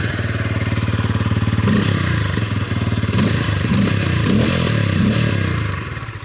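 Bajaj Pulsar N150, a 150cc motorcycle, idling steadily nearby with a bassy, even engine thrum that holds throughout, a few rhythmic clatters layered over it and a slight fade near the end.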